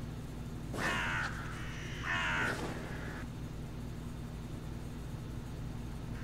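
Crows caw in an anime episode: two loud, harsh caws about a second apart, standing alone over a steady low background hum.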